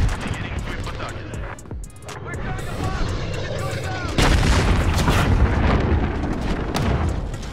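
A rocket explodes in the Modern Warfare video game: a heavy, close boom bursts in partway through, amid ongoing gunfire and rumbling battle noise, with a player's voice talking over it.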